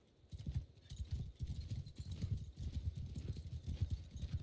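Horse archers ride in Mount and Blade II: Bannerlord, a steady, close clip-clop of many galloping hooves running continuously with no talk over it.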